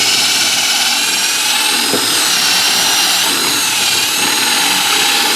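A power drill with a 7/8 inch hole borer cuts into wood, a loud, continuous high-pitched whine and grind, close and unbroken throughout.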